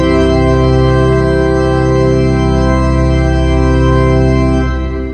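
A large concert hall pipe organ plays its full chorus with every stop drawn, a loud sustained chord thick with stacked harmonics that holds steady and fills the room before easing slightly at the end.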